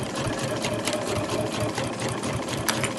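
A sewing machine stitches a zipped cushion cover in a continuous run, a fast rhythmic needle chatter over a steady motor hum, close and unbroken, without speech.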